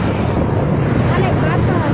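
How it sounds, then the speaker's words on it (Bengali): Strong wind over the water beneath the Munshiganj bridge produces a loud, continuous low buffeting roar that rumbles steadily for the whole moment. "অনেক বাতাস।"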